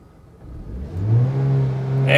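A Mitsubishi Lancer engine climbs from low idle and rises to about 4,000 RPM, then holds there in a steady close hum.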